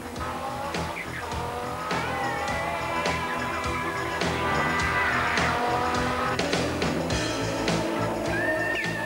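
Audi four-wheel-drive race cars on the short, narrow Swartkop circuit in 1992, engines revving and shifting loudly as they pass close by, with tire squeal over sustained engine roar.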